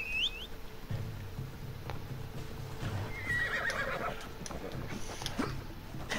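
A horse neighs in Assassin's Creed Odyssey, a high whinny near the start over steady game ambience with soft hoof clip-clops and a second shorter call later.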